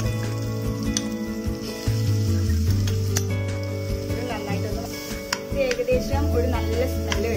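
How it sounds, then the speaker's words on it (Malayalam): Crushed garlic fries in a pan for the Kerala Iftar snack kilikkoodu, with a soft continuous sizzle and occasional stirring scrapes, partly under background music and someone talking. "അടുത്തത് വെളുത്തുള്ളി ചതച്ചതും നമുക്ക് അതിലേക്ക് ആഡ് ചെയ്യാം."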